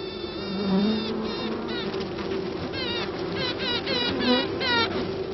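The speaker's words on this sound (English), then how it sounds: "It's the sound of the new queen as she emerges into the bee colony." A newly emerged queen bee inside the colony gives a run of repeated rising piping tones. They sit over a steady, close buzz of the worker bees.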